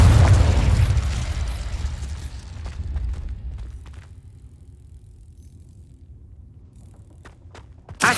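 In Hogwarts Legacy, the Confringo blasting spell bursts into a loud, heavy explosion that rolls into a long fading rumble and debris crackle, ending with a sharp new impact.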